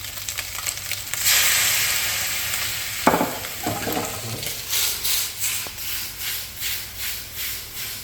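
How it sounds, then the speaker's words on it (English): Chicken frying in a pan, with cooking wine poured in, bursts into a loud, steady sizzle that continues to hiss with occasional rhythmic stirring scrapes. "Now I'll add some cooking wine."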